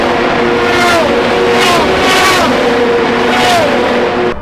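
An Acura Integra HRC race car engine at the Long Beach Grand Prix, loud and close, its revs rising and falling in repeated surges over a continuous roaring drone.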